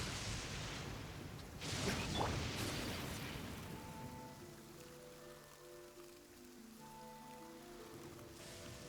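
Rain falls in the video game Genshin Impact, a steady soft patter with a louder rumbling burst early on, then continues beneath faint sustained musical tones.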